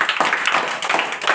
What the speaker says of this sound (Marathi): टाळ्या वाजवा सगळे.